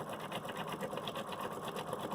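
An embroidery machine stitches out a fill stitch, a steady, fast, even whirring and tapping that runs close and unbroken throughout.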